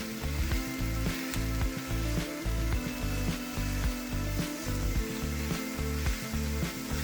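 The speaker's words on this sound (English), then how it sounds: "Add 1½ pounds of ground beef." Ground beef sizzles loudly and steadily in a frying pan for a chile relleno casserole, a dense continuous hiss with repeated rhythmic scraping or stirring knocks throughout, close up and with no talking.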